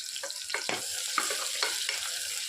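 Onions frying in a pan with green chillies, cloves and cardamom for tomato rice: a steady close sizzle with occasional stirring scrapes, no voices.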